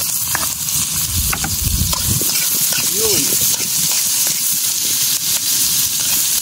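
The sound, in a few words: stirring duck stew ingredients with sautéed onions in a pan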